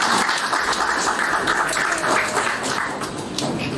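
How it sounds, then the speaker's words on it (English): Audience applause at a Nepali embassy reception, a steady dense round of clapping from a hall full of guests that continues throughout, close and moderately loud. "Please let us give him another round of applause."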